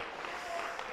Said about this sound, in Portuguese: Louve a Ele com as suas palmas